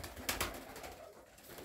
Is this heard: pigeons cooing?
yes